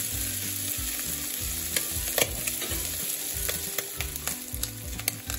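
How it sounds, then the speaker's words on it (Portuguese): Bacon frying hard in a pan, with a constant loud sizzle broken by sharp pops and crackles as fat spatters, close up and with no speech. "Vou tirar para fora do calor, porque ele está a saltar por todo."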